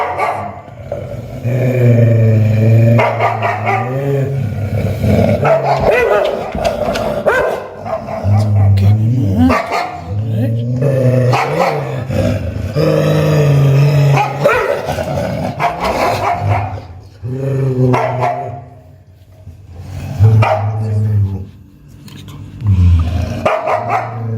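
Two dogs confined on opposite sides of a door growl and bark at each other intensely, deep rumbling growls broken by sharp loud barks and yips, close and sustained with only brief pauses.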